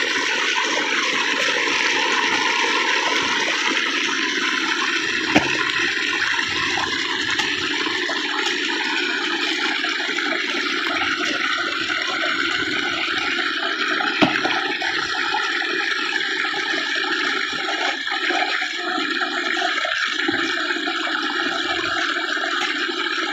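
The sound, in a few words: water flowing through buried irrigation pipes in field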